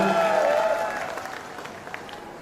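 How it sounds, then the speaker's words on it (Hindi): Crowd applause at a BSP and INLD alliance joint political rally in Chhachhrauli, a dense wash of clapping heard at moderate distance with a voice over it at the start, thinning and fading over a couple of seconds. "उनके बीच जोरदार तालियों से गड़गड़ाहट से स्वागत चाहता हूं"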